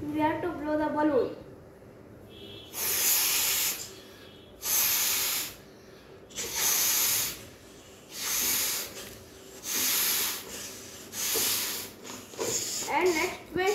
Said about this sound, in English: we have to blow the balloon